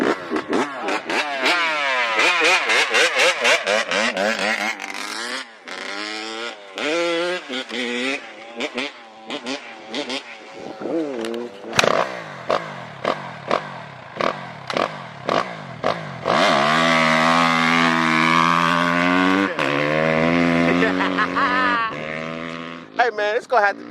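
Dirt bikes on a ride-out in Loxahatchee rev hard for a rolling race start, engines rising and falling through repeated loud throttle bursts and sustained high-pitched wails close by, with voices mixed in.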